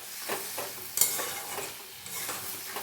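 Spices for a papaya curry being sautéed in a pan: a close, soft sizzle broken by rhythmic stirring scrapes and a sharp utensil clink near the middle.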